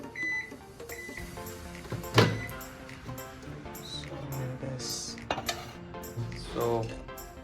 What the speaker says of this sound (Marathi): गरम करून गुलाबजाम खाण्यात जी मजा आहे, खूप छान लागतात मायक्रोवेव्हमध्ये गरम केल्यावरती